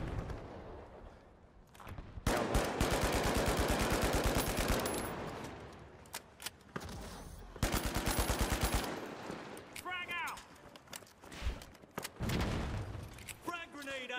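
Repeated bursts of automatic gunfire in the shooter game The Finals during a ranked cash-out match, loud and close, with rapid sustained volleys, heavier booming hits and brief gaps, mixed with game effects and voices talking over it.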